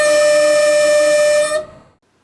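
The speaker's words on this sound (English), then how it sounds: "This German train horn is a typical example." A German train horn sounds one sustained, loud single note with a rich, steady tone that holds for about a second and a half before cutting off and fading into silence.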